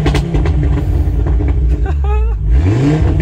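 A stage 1 tuned Audi RS3 8P engine revs while parked, a low throaty drone that climbs sharply in pitch near the end, with a voice talking over it.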